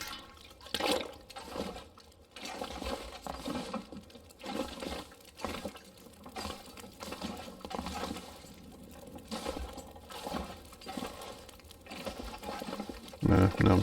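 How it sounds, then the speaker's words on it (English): Water sloshing and trickling in a toilet inside The Long Dark survival game, a steady watery wash running throughout at moderate level, with a louder burst at the very end. "She totally getting the toilet water."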